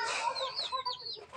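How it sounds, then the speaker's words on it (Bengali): A chicken being caught on a small poultry farm squawks and clucks in agitated, rapid bursts, fairly close and moderately loud over a brief moment. "ভিতরে রেখে গেছে মুরগিটা"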